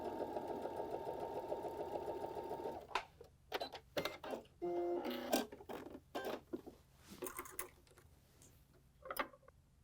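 A Baby Lock sewing machine fitted with a garment maker foot stitches a seam with a steady, close motor whir for about three seconds, then gives way to scattered short clicks and bursts of handling noise.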